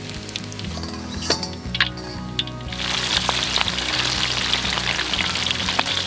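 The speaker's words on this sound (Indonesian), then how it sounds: "Lele yang agak lama ini gorengnya." Catfish frying in hot oil crackles and sizzles steadily close up, the bubbling growing louder and busier partway through, with no voices.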